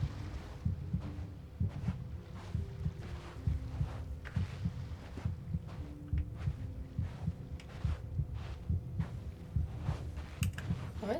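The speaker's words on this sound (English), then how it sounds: "Is your heart pounding?" Pounding heartbeat effect from the video game Genshin Impact, a low muffled thumping repeating steadily under a faint ambient hum and soft game sounds.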